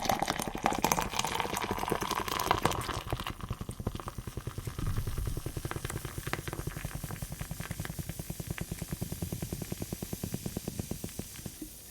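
Soda poured hard into a glass makes a steady, close fizzing and bubbling that runs for about twelve seconds. The foam crackles densely, starting louder and rougher and then settling into an even, rapid rustle.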